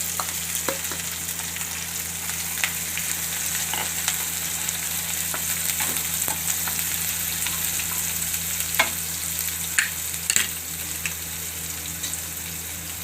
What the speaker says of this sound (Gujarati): હવે આપણે આ લીલી ડુંગળી નાખી દેવું